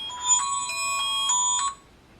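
A telephone ringing during a call gives a short electronic ringtone with a few pulsed tones, clear and close, that stops abruptly, with no talk.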